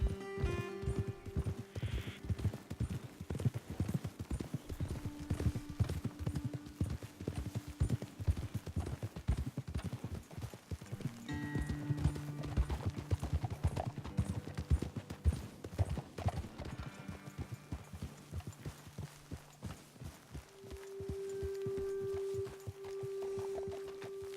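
Horses walk in Red Dead Redemption 2, their hooves giving steady, overlapping clip-clops throughout, with a brief whinny and soft tonal game sounds in the background.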